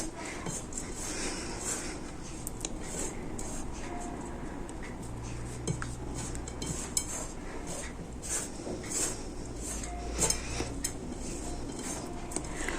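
Ground toasted sesame being mixed in a bowl, a quiet continuous scraping and rubbing of a utensil against the bowl with occasional light clinks, close and without voices.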